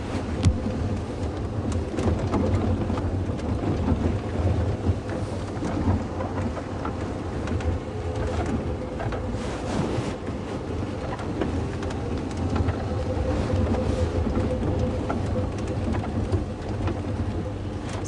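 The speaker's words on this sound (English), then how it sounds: "the more I see the storm that's on its way" An approaching thunderstorm over the African bush brings steady, dense rainfall with low rolling thunder rumbling underneath, continuous and enveloping, with faint bird calls now and then.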